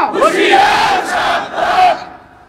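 A large crowd at an Islamic sermon gathering shouts the takbir in unison, two loud, full-throated surges over a couple of seconds before trailing off.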